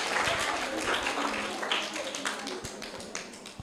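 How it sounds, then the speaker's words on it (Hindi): Audience clapping for a third-place winner at a school competition prize-giving, a steady dense patter of applause from a room of children throughout, with an adult voice speaking briefly over it. "जोरदार तालियां इनके लिए।"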